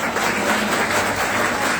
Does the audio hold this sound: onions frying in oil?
no